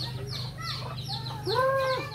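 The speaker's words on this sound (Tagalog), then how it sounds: "Yan, tandang yan." A rooster crows nearby amid clucking hens and other bird calls over a steady low hum, on a rural farm in the Philippines.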